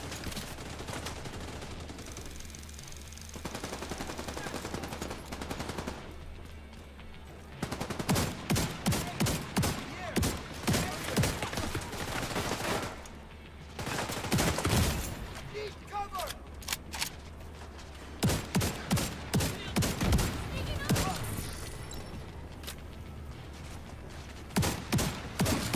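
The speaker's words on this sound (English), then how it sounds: "This shotgun is nuts, man." Shotgun blasts fire in the online shooter Division 2, a run of loud, sharp booms arriving in irregular bursts over continuous game noise, with a player's voice talking at times.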